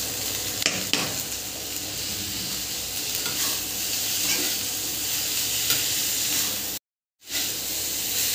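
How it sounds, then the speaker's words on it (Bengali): Palta leaves and stems for a vegetarian dish being stirred and fried in a pan: a close, continuous sizzle with scraping stir strokes throughout and a brief gap of silence near the end. "আমি এগুলো দিয়ে বেশ কিছুক্ষণ ধরে নাড়াচাড়া করে নেব"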